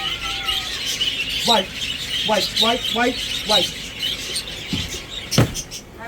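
A pet bird named Riker screams in a series of harsh, rising squawks, several close together near the middle, loud and close, with a person speaking briefly and other birds chirping in the background.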